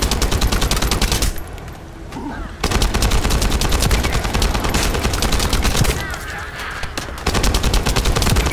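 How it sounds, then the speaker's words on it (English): Dense rapid-fire gunfire from the video game The First Descendant, loud and close, as continuous automatic bursts with two brief pauses, no talking. "Who's shooting at me?"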